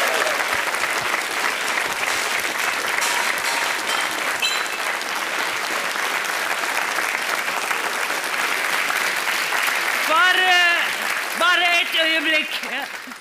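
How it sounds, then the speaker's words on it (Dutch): Sustained applause from a comedy show audience fills the room at a steady, loud level, with voices rising over the clapping near the end. "En skikkelig applaus"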